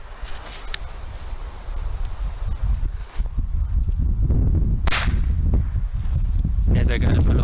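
Firecrackers, old Weco Corsair bangers with grey fuses, go off outdoors in a loud series of sharp cracks. Several strong bursts sit over constant rumbling background noise.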